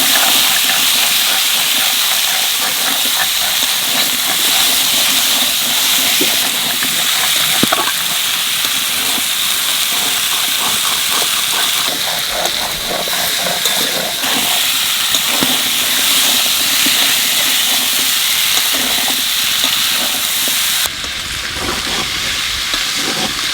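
Potatoes fry with spices in a hot pan, giving a loud, continuous close-up sizzle and hiss that holds steady throughout, with faint stirring scrapes beneath and no talk.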